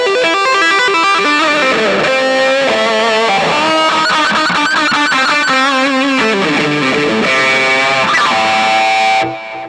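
A distorted electric guitar through an EVH 5150 III Lunchbox amp plays sustained chords and bending notes with a swirling, sweeping phaser effect, loud and up front, then cuts off at the end.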